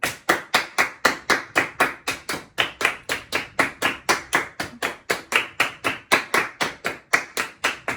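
Crisp, rhythmic hand clapping in body percussion, sharp claps repeating in a steady tresillo groove, close and loud with no talking.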